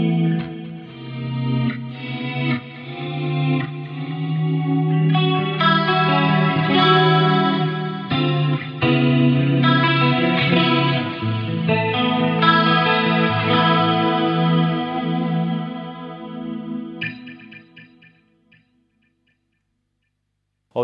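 Electric guitar played through a Fractal Audio Axe FX III MK2 effects unit, sustained chorused chords with shimmering, distorted layers ringing steadily for about seventeen seconds before fading to silence.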